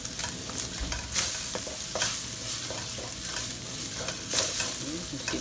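Ham stirred in a hot frying pan for carbonara gives a steady sizzle broken by a few scraping utensil strokes against the pan.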